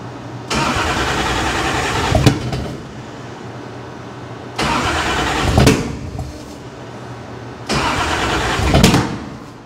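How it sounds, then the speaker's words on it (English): A Toyota MkII Supra engine cranks over three times in separate bursts, each long starter whir ending in loud, sharp backfire bangs, heard close up with pauses between attempts. "So we are backfiring like a mother"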